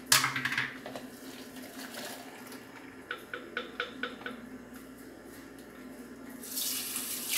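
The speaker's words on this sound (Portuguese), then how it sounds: "Passar uma aguinha nele para tirar" Water runs from a tap over lemon pulp in a strainer while Swiss lemonade is made, a soft splashing flow with a series of light taps in the middle and louder gushes at the start and end.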